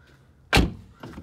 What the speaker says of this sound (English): Door closes nice and solid.